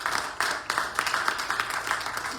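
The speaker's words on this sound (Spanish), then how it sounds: "Denle un aplauso al Señor," A church congregation applauds, a dense wash of clapping held at an even level with several louder surges, while faint voices sit underneath.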